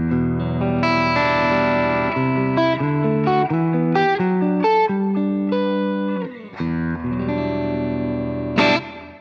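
An electric guitar with humbucker pickups strums chords and picks single notes with a thick, warm, slightly overdriven tone, playing continuously with a brief pause near the end.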